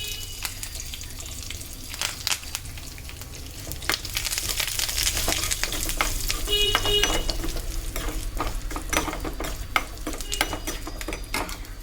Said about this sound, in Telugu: ఎండుమిరపకాయలు వేసుకుందాం. చేతి కరివేపాకు వేసుకుందాం.